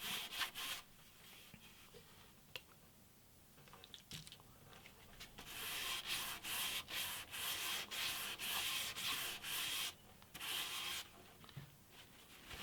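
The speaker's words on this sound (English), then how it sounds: "I'm going to use a sponge actually with the sandpaper wet and dry on just there, just to get that." Wet-and-dry sandpaper on a sponge rubbing the sides of an antique parlour guitar, repeated close scratchy strokes in bursts, sparse at first and then a steady back-and-forth run with short pauses.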